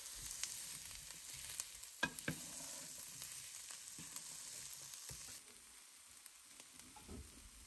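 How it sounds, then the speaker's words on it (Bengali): Red bell pepper sautéing with ginger and garlic in a pan: a faint, steady hiss of frying with scattered light clicks and scrapes of a utensil, quieter toward the end. "রেড পেপারকেও এখন আমি সটে করে নিচ্ছি।"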